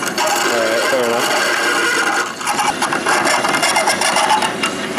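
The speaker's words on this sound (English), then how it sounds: "Drilling the hole out." A drill boring out a hole in metal in a motorsport workshop, a steady loud grinding whir with rasping texture, with people talking over it.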